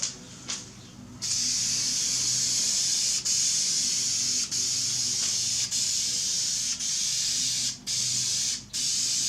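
Wrinkle-finish paint is sprayed from a can onto a Miata intake in a forged 1.8L engine build. A loud continuous hiss runs for long bursts, broken by several brief pauses, with no talking.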